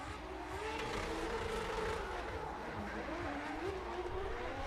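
Race car engines whine and shift pitch continuously on the Orange Show Speedway track during a Hotpit Autofest competition run, a steady mid-distance roar with a commentator talking over it.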